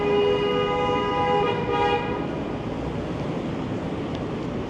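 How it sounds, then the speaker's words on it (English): Car horns blare in Toronto street traffic on a sunny afternoon, a long layered honk lasting about two seconds at moderate distance, then fading into the steady wash of city traffic noise. "Cars being honked at"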